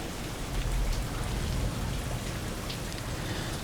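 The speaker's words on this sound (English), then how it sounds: "can you hear the rain pouring heavily off the other side of this room?" Heavy rain pours steadily in a dense, hissing wash, constant and enveloping, with no voices.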